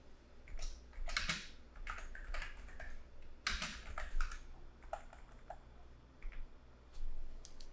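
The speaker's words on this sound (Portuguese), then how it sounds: "E aí eu posso digitar aqui o meu texto." Text being typed on a computer keyboard, quiet irregular bursts of key clicks with pauses between them, close and alone without speech.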